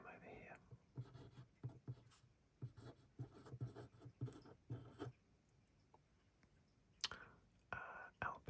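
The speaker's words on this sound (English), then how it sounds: "Let's write him over here." Soft pen or pencil strokes on paper in a quiet room: irregular bursts of close, faint scratching. A voice whispers under the writing.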